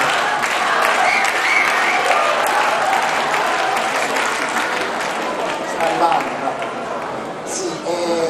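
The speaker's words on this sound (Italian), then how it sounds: "la regista Gianna, l'aiuto regista Gabriele, prenditi l'applauso." Sustained audience applause fills the Teatro Goldoni in Livorno after a performance of Hans Krása's children's opera Brundibár, a dense steady clapping that carries on throughout with voices mixed faintly into the crowd.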